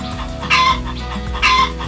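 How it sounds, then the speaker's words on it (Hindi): Free-roaming chickens in a jungle setting cluck in two loud bursts with quieter clucking between, close by and with no talk. "बहुत सारी मुर्गियाँ।"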